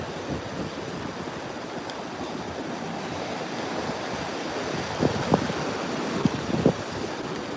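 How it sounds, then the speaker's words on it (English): Strong wind blows across the microphone during an outdoor walk beside the ocean, making a steady roar of buffeting with surf behind it, and a few louder gusts and thumps come near the end. "I noticed the wind was ramping up, and now the wind is behind me"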